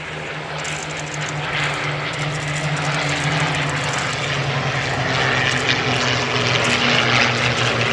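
Sally B, a B-17 Flying Fortress, passes with its piston engines droning loud and steady, a rough propeller roar that swells slightly as the bomber goes by overhead at an airshow.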